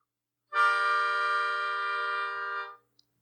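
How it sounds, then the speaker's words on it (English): One sustained minor chord holds evenly for just over two seconds and then stops abruptly. It sounds clean and close, with no speech. "maybe we have a chord that is minor,"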